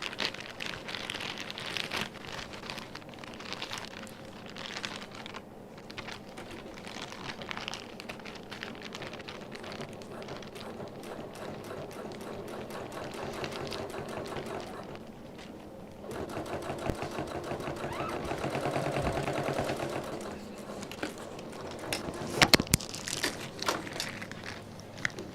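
A serger top stitches through three layers of vegan leather with a steady, fast mechanical whirr and needle chatter that runs without a break, growing a little louder and rougher near the end.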